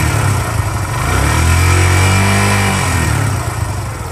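Barako engine revved with the throttle: a steady idle climbs into a smooth, loud rev, holds briefly, then falls back toward idle, all close up.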